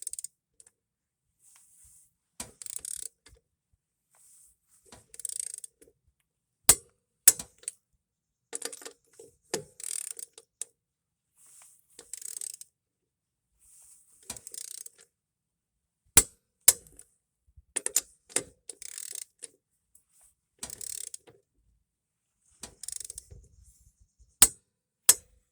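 A torque wrench tightens tire lug nuts on a car wheel: sharp, isolated clicks and short ratcheting bursts come in irregular clusters against quiet, close and fairly loud, with no talking.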